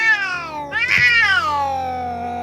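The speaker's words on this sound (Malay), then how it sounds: "aku terperanjat dengan bunyi kucing di belakang aku" A domestic cat meows loudly and close by, one long drawn-out call that rises sharply in the middle and trails off slowly, heard alone with no talking around it.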